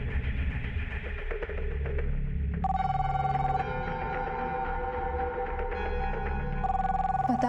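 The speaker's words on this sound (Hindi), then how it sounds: "पता है किसका फोन है?" A telephone at home rings with a steady electronic tone that starts partway through and repeats in sustained bursts over a low background.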